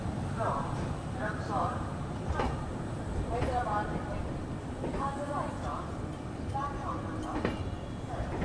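Black Diamond Express train pulling out of Dhanbad Junction, heard from on board: a continuous low rumble and rattle of the moving carriage, with people talking throughout over the noise.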